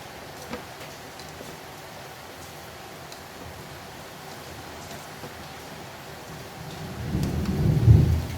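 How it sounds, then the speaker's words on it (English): Steady soft rain hiss, then a low rumble of thunder building near the end. "It's raining outside."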